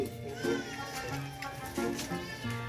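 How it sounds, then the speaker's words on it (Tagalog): A hungry cat meows repeatedly in a home kitchen, several short plaintive cries spread through the clip, partly mixed with background noise and household activity. "nanghingi yung pusa"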